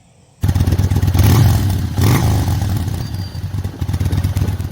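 A 2021 Harley-Davidson Pan America Special motorcycle engine starts up abruptly, then runs loud and close with a deep, rumbling idle, climbing in a couple of strong revving bursts before settling into a steady, throbbing beat.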